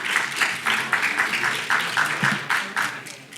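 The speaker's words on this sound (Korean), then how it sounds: "박수 한번 보내주세요" Students in a classroom applaud together after a correct answer during a lecture, a steady run of fairly close, continuous clapping lasting a few seconds with no talking.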